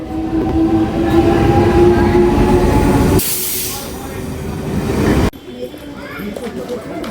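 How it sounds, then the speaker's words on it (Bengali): A train departing a station rumbles and clatters along the rails, steady and loud, then the noise abruptly drops to a quieter hum with faint rail sounds and distant voices. "এই ট্রেনটা বেরিয়ে গেল আপাতত।"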